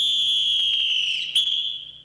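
A sharp, shrill wake-up whistle at a Marine Corps training camp blows in one long sustained blast, wavering slightly near the end before fading out, with no voices around it.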